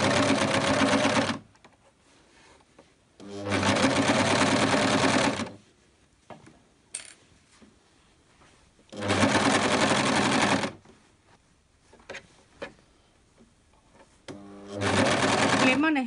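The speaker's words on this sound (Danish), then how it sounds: "når jeg syr de to lag sammen" An overlocker sews two layers of furry fabric together in three or four loud, buzzing bursts of a few seconds each, separated by quiet pauses with small handling clicks.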